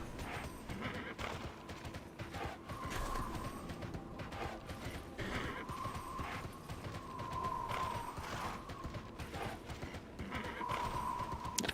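Horse hooves clip-clop steadily with repeated whinnies and neighs in the fantasy game Tera, a busy layered soundscape heard under faint game ambience with a little speech.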